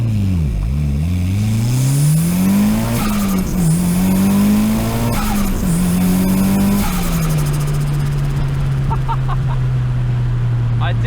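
A Mitsubishi Evo 6 launches from a standstill on a 0 to 100 run, its loud, close engine revving up hard through several gear changes before easing into a steady drone.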